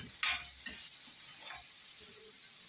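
Fat melting in a frying pan, a quiet steady sizzle with a couple of faint clinks from stirring near the start.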